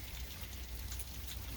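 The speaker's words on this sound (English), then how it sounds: "Just constant sleet and rain, freezing rain, whatever you want to call it." Freezing rain and sleet fall steadily during an East Texas ice storm, a constant soft patter of drops on iced-over surfaces with a low rumble beneath, even and unbroken throughout.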